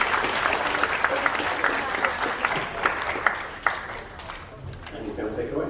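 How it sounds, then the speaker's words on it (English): Sustained applause from a crowd at a school humanities symposium, dense clapping filling the room, with a few sharper claps standing out before it gradually thins. "So please give him a round of applause."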